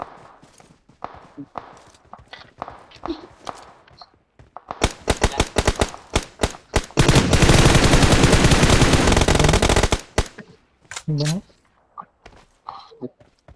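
Shots from a bot in a video game come as sharp, separate gunshots at first, then build into a loud, sustained burst of rapid automatic fire, followed by a few more shots, while a voice talks over it.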